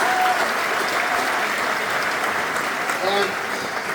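An audience at the St. Joseph College of Maine Class of 2025 graduation ceremony gives a sustained round of applause: dense, steady crowd clapping throughout, with a voice speaking faintly over it near the end.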